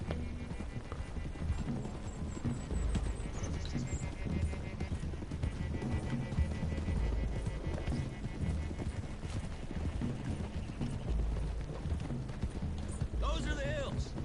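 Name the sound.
horses' hooves while riding, from the video game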